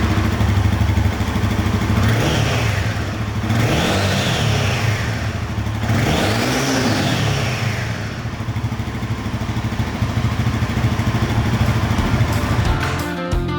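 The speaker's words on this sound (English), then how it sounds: "Exhaust note wasn't the most exciting." A Royal Enfield Himalayan 450 motorcycle runs steadily and loud up close, its exhaust note swelling in three distinct revs that climb and fall back before settling into a constant drone.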